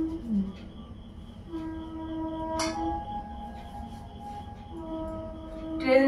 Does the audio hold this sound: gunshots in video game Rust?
no